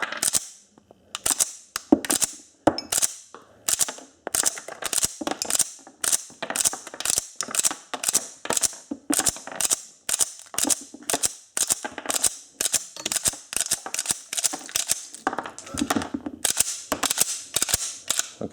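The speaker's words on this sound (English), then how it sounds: "Let's see if it will cycle the gun anyway." A gun is cycled by hand through the rounds of an MBXExtreme 170mm magazine, giving a long string of sharp, close metallic clacks in an uneven rhythm, more than thirty actions in all, with no talking.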